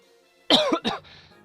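A single short cough, close and sharp, with a quick second burst like a throat clear, followed by quiet.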